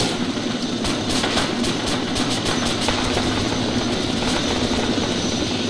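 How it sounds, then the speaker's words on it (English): A helicopter in a video game thrums loudly and steadily, rotor chop pulsing through the whole stretch, close and unbroken, with no talk over it. "which chopper are we joining or jumping in?"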